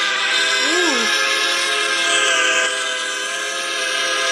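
A BNSF local freight train led by ST40 and GP locomotives rumbles steadily nearby, with sustained horn-like tones layered over it. A voice briefly exclaims early on.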